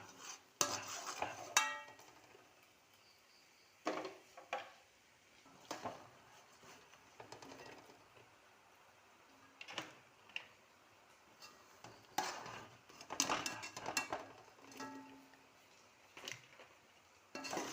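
Dried red chillies being scooped out of a hot pan, with scattered scraping and clinking strokes of a utensil between quiet gaps, close but soft, no talking.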